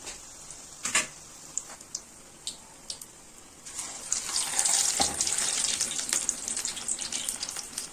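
Karpooravalli leaf bajji dropped into hot oil on a medium flame, a few sharp taps followed by a rising, steady sizzle and bubbling hiss that fills the rest of the moment, close up with no talking.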